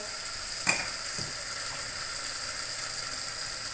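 A tomato, chili and garlic paste sizzles steadily in a pan for potato curry as turmeric, red chili and coriander-cumin powders are stirred in, with one sharp scrape of the spoon early on.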